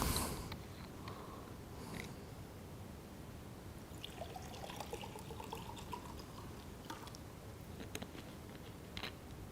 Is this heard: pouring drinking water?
yes